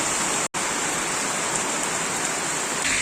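Heavy rain pours steadily on Old Zigzag Road in Quezon, a loud, dense, unbroken hiss that drops out for a split second early on and then resumes at full strength.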